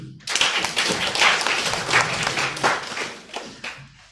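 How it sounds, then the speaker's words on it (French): A crowd at a commemorative gathering applauds in honour of a late colonel, a burst of many hands clapping that starts abruptly, stays lively and uneven, then thins out toward the end. "Il s'agit du feu LH colonel Fanny Kemoro, que je demande d'applaudir."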